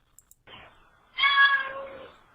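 A cat meows twice up close: a soft short mew, then a louder, drawn-out meow, after two faint clicks.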